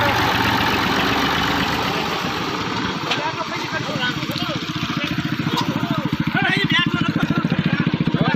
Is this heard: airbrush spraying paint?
no